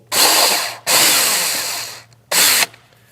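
A power drill whirs loudly in three bursts, the middle one longest, drilling a hole for a catch can bracket on a 2025 Ford F-150, close up with short gaps between runs.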